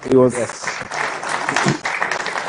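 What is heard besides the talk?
audience applause at investment summit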